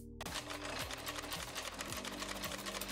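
A sewing machine stitches vinyl sandwiched between two bandana layers, producing a close, rapid, even mechanical rattle that starts abruptly and runs steadily without pause.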